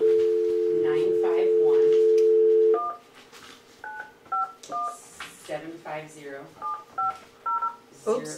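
Telephone keypad tones beep in short separate bursts as a number is dialed during a water district meeting, coming after a steady dial tone, with faint voices in the room between the tones.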